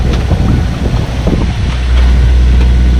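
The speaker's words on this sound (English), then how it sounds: "Got decent winds." Steady wind buffets the microphone aboard a sailboat out at sea, a loud broadband rush with low rumble that swells and holds firmer in the second half, with no voices.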